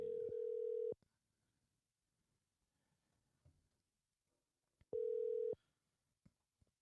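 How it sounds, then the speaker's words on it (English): Ringback tone on an outgoing telephone call: two steady, loud, sustained tones separated by a silent gap of about four seconds. "we're gonna just dial him in"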